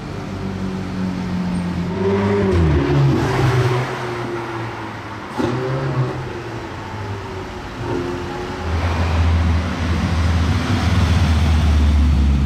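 A Ferrari Pista with carbon wheels and a non-stock exhaust revs loudly nearby, its harsh engine note climbing through several hard accelerations before settling into a heavy rumble.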